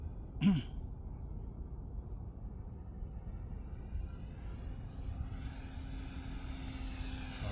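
A repaired LX model P-40 Warhawk airplane making a low pass: a faint, steady propeller-engine drone runs throughout and rises slightly toward the end, with a brief voice near the start.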